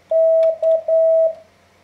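A Morse code letter M, sent slowly at five words per minute as a pure, steady beep tone in long pulses separated by short gaps. The tone is clear and close, with nothing else heard.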